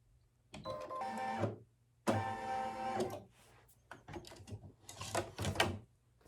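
An embroidery machine sews a satin stitch on glow-in-the-dark fabric for a Christmas ornament, running in several mechanical bursts of rapid stitching with short pauses between, fairly close and without talking.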